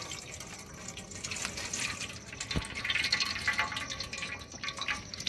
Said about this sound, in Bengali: তেঁতুলটা যেটা ভিজিয়ে রেখেছিলাম এটা ছেঁকে জল, এই জলটা নিয়ে নেবো, ছেঁকে নেবো জলটা